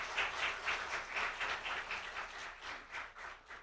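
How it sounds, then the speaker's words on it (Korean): Congregation in a church applauding to welcome the pastor's wife, a steady wash of many hands clapping at moderate distance, continuing through the whole span without speech. "여러분 환영의 박수 한번 좀 보내주세요"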